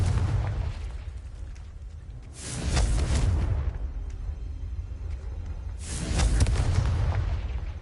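In Hogwarts Legacy, the Confringo fire spell bursts twice, each impact a loud whooshing, crackling explosion lasting about a second, separated by a quieter stretch of low rumble.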